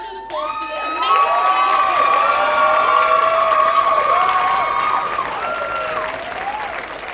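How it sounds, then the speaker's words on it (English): A crowd applauds and cheers for a team, with loud clapping, whoops and high-pitched shouting voices swelling together and staying strong throughout. "Please can we get a round of applause for the amazing"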